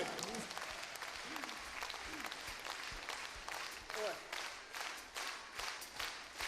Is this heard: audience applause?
yes